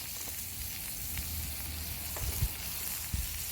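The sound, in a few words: butter melting and sizzling in a cast iron pan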